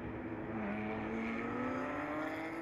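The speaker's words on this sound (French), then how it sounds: "il dépasse les deux pilotes, Christophe Lapierre" Porsche Carrera Cup race cars at speed on the Barcelona circuit, a steady loud engine drone with a rising whine as the cars pass and overtake, continuous throughout with no voices.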